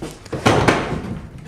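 An old wooden drawer in an abandoned farmhouse slides shut with two close knocking thuds amid a scraping rustle, loud and near.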